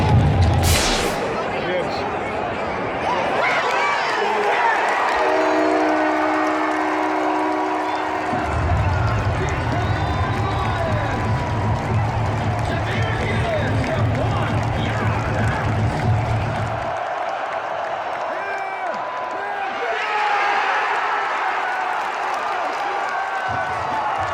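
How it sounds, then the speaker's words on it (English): Crowd noise at a Dallas Cowboys vs. Detroit Lions football game, a loud continuous stadium roar with swelling murmurs and scattered shouts from a displeased audience after missed referee calls, steady throughout with a few surges. "this crowd is not happy because the refs missed 2 calls on the same play"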